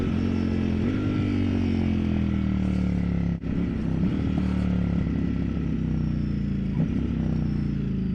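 Ducati Streetfighter V4 S motorcycle (2020) accelerating on a road, with a steady loud engine drone rising in pitch through the gears, heard close from the rider's position with wind noise and no talk.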